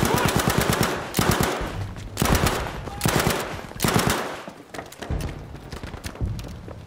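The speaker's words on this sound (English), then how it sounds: "Suppressing fire." Sustained suppressing gunfire in Battlefield V: loud automatic weapon bursts rattle in close, heavy waves with brief gaps, layered over a busy battlefield din.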